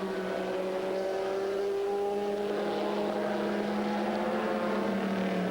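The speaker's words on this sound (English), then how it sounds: "right now it is that number 42 BMW of Jörg Müller which leads this race at Mosport" The number 42 BMW race car at Mosport during a 2000 American Le Mans Series race, engine droning with a steady, slowly rising pitch as it passes, a sustained mechanical whine with no voices over it.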